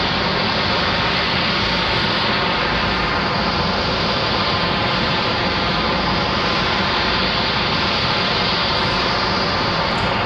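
A Spirit Airlines jet taxis at Raleigh-Durham International Airport, its engines producing a loud, constant rushing roar nearby with no pauses.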